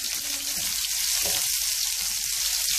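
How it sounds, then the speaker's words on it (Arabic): Onions fry in a pan, cooked only until soft rather than browned, making a steady close sizzle broken by a stirring scrape partway through; nobody speaks. "هنبدا ننزل البصل وهبدا اشوح فيه"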